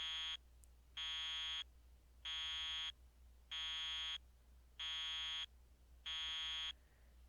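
Electronic alarm beeping in a steady rhythm, six long even buzzing tones about a second apart, each separated by a brief gap, faint and alone without any speech.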